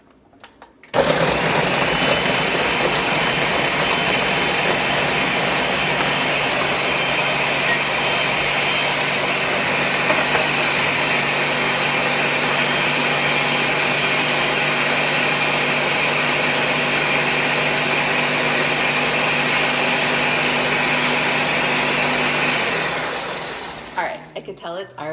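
A blender runs continuously for about 23 seconds, loud and steady, whirring through a thick frozen vegan Frosty-style plant-based protein smoothie, then shuts off and winds down.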